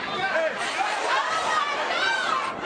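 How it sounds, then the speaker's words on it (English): An unruly crowd rushing for hard drives at a Missouri store, heard as loud, overlapping chatter and shouting voices with no single voice standing out. "Cops called in to control an out-of-control crowd."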